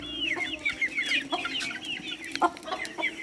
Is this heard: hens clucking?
yes